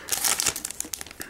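Foil wrapper of a Pokémon Noble Victories booster pack being torn and crinkled open, a close, fast run of crackling rips and crumples lasting just over a second.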